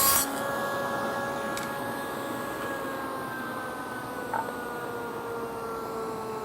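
A table saw fitted with a dado blade set to a 3/8-inch cut height runs steadily in a workshop, giving a sustained loud whine with a brief bump of cutting partway through, no voices.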